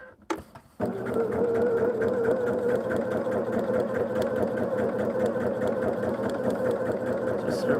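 A few handling clicks come first, then a sewing machine starts and hums through a continuous run of stitching along the sides of a foundation-pieced quilt block, close and steady.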